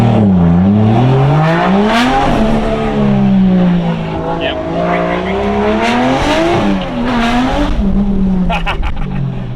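Engine of a rear-wheel-drive Toyota JZX110 Camry, tuned, on stock turbos, rising and falling as it accelerates hard with rear 215/40 tires spinning, loud and close throughout, with someone talking over it.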